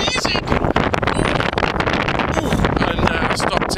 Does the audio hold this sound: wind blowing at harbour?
yes